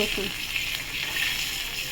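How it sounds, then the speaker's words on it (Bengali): Garlic frying in a pan of hot oil alongside cloves and bay leaves, a steady close hiss of sizzling that runs the whole time without a break, with no voices. "রসুনটা ভাজা হয়ে গেছে"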